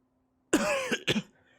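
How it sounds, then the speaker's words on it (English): A man coughs twice, close and fairly loud, the second cough a short harsh burst after a brief pause. "Draco coughs again from nearby."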